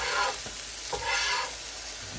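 Ground beef sizzles and crackles on a hot griddle while being stirred and pushed around. The frying hiss is close and steady, with a couple of scraping strokes across the surface.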